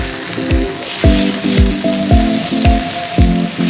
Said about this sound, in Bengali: এটা হচ্ছে আদা রসুনের পেস্ট, আমি দিয়ে দিচ্ছি কড়াইয়ে